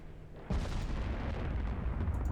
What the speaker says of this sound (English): 18-inch battleship is engaging.